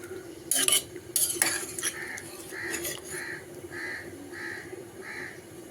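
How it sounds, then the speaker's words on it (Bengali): Chicken curry with local potatoes is stirred in a pot, giving a few loud metallic scrapes and clinks up front, then quieter stirring while a crow caws repeatedly nearby. "দেশি আলু দিয়ে হার্ড চিকেন রান্না প্রায় এগিয়ে গেছে নাড়াচাড়া দিয়ে"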